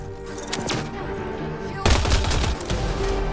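Rapid bursts of weapon fire ring out in a Mass Effect Andromeda firefight, loud and close, punctuated by heavier impacts, with voices underneath.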